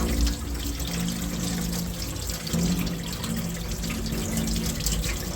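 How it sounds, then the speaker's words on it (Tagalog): Fish being rinsed under a steady stream of running tap water at a sink, a continuous close splashing rush with no pauses and no voices. "Hugasan at isda ng mabuti."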